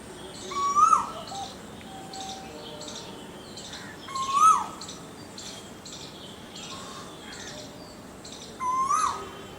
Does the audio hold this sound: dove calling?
yes